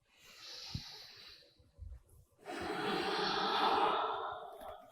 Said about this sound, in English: And breathing in and out through your nose.